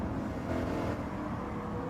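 Steady engine drone from a race car lapping Interlagos in Gran Turismo 7, a continuous low rumbling hum at constant loudness with no talking.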